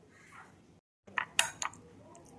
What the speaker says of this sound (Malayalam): 1/4 കപ്പ് ഓട്സ്, 1/2 കപ്പ് തൈര്, 2 ടീസ്പൂൺ ഹണി. ശേഷം ഇതെല്ലാം ചേർത്ത് മിക്സ് ചെയ്യാം.